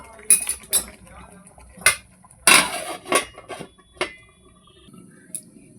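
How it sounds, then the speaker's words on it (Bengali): A lid set over a cooking pot of Bengali egg curry, sharp metallic clanks and clinks of metal cookware, several close knocks with a louder clatter midway, with faint background noise. "এবার এটা ভালো করে ঢাকা দিয়ে 5-10 মিনিট মতো রেখে দেবো।"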